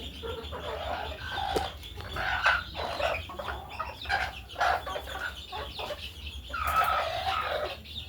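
Chickens cluck repeatedly in short, uneven bursts nearby, with a brief crow-like call partway through over a low background hum.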